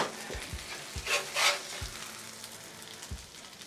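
A soft, steady sizzle of hash browns frying in a pan, with a few low thumps and brief bursts of louder crackling from stirring.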